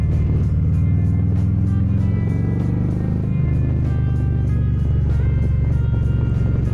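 Motorcycle cruising on a Florida road at about 45 mph through a turn, with a steady close engine drone and rushing wind noise, the engine note shifting slightly midway.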